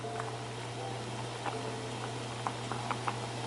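Apples boiling in a pot at a low simmer, soft bubbling pops and small irregular blips over a steady low hum.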